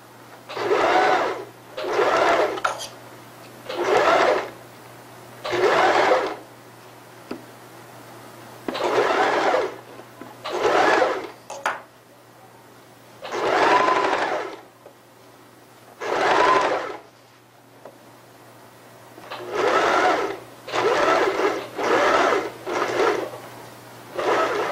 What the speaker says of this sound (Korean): 돌아가는 곡선 부위는 그대로 박음질 하시면 됩니다.